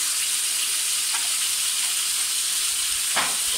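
Ginger garlic paste sizzling in hot oil while cooking chicken biryani, a steady close hiss of frying with a couple of brief sharper crackles, no voices.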